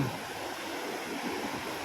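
Water pours and rushes steadily at the Huai Kok Kok waterfall, a broad continuous hiss with a low rumble, close and even throughout, with no voices over it.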